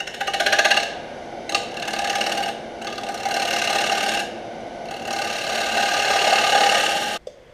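A wood lathe spins while a tool cuts a bowl, giving a close, steady scraping hiss with a fast mechanical buzz that briefly breaks off and resumes several times before stopping.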